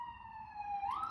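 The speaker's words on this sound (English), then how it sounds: "Sorry, sirens." A wailing emergency siren sweeps steadily in pitch, then rises near the end, heard at moderate distance with no talk.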